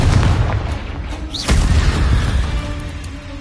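Confringo blasting spell in the wizarding game Hogwarts Legacy, a loud booming blast with a sharp crack around the middle, set against thick rumbling in-game noise and a short whistling zip just before the hit.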